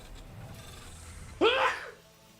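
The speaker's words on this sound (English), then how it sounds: "Don't mind me just sneezing over here." A single sharp sneeze bursts out close by, brief and explosive, after a moment of near silence.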